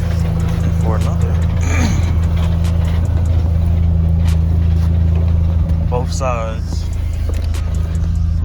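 A misbehaving Dodge SRT4 engine runs in gear, a steady low droning hum that holds throughout, close by, while people talk over it.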